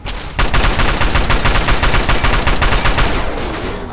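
Rapid automatic gunfire in Fallout 3 aimed at the player, a loud, close, steady burst of repeated shots lasting about three seconds before tailing off.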